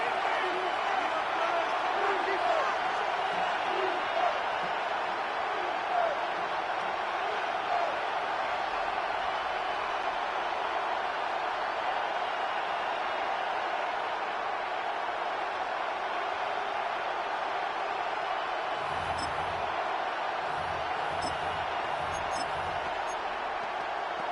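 A home stadium crowd roars in a steady, continuous wash of noise during a football game, with commentators talking over it.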